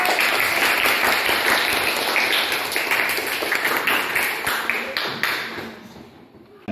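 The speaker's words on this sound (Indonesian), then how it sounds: "Kasih tepuk tangan." A classroom of seventh-grade students applauding a classmate's correct answer, a lively burst of clapping that fades out toward the end.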